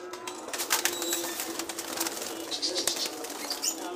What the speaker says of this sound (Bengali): প্রচুর পরিমাণের কবুতর দেখেন